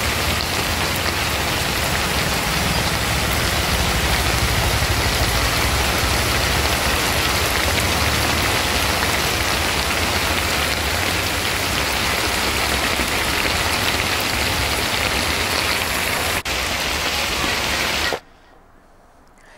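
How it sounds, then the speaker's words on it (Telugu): Heavy rain pours down continuously in a dense, loud, even hiss of drops striking surfaces, lasting nearly twenty seconds before cutting off abruptly into near silence. "భారీ వర్షం కారణంగా గంట వ్యవధిలోనే 12 సెంటీమీటర్ల వర్షపాతం నమోదైంది"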